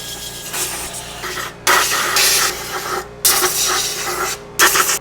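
An aerosol can of brake cleaner hisses in three long bursts, close by, with short pauses between sprays and no talking.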